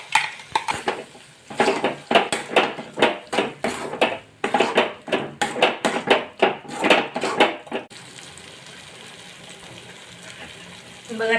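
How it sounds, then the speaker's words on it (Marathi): Peanut, lentil and sesame paste sautéing in oil in a pan for a garlic-fenugreek vegetable dish, heard as repeated close scraping and clattering of a spoon against the pan over a low sizzle, then a quieter stretch of soft frying. "बघा, तेल सुटेपर्यंत आपण पेस्ट परतून घेतली आहे."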